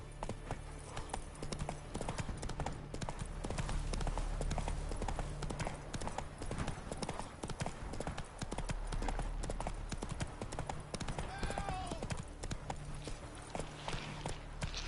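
Horse hooves clip-clopping steadily in The Witcher 3, a continuous rhythmic trot close and loud over low game ambience and music, with a brief whinny near the end.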